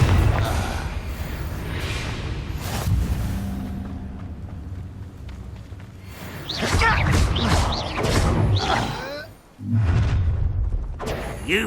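Confringo spell blasts in the video game Hogwarts Legacy land as loud booming bursts with whooshes and thuds, clustered in a rapid series amid combat noise.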